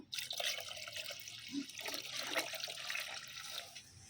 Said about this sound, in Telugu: దీని మొత్తం వాటర్ వేయడం జరిగింది